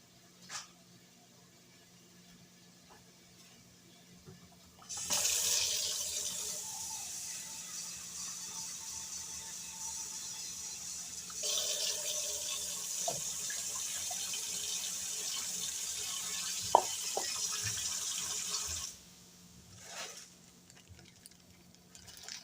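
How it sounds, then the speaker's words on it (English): Tap water running into a pot of pasta sauce made with ground turkey and diced tomato: a hissing rush that starts after a quiet lead-in, pauses briefly, resumes, then stops, with faint kitchen clatter around it. "I'm just gonna add in some water, a little bit, not much."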